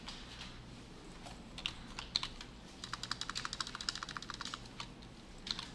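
Someone types on a computer keyboard while coding in Kotlin, producing a few scattered keystrokes and then a quick, rhythmic burst of clicks, fairly faint and with no talking.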